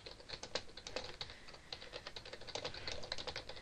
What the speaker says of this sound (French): Ensuite, là, on tape le texte.